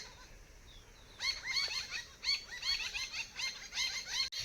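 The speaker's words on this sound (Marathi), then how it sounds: "चिमण्या बघा कशा चूचू करायला लागल्यात" Sparrows near a house doorstep give a quick series of bright, repeated chirps after a quiet second, several overlapping calls coming in bursts at moderate distance over faint background hiss.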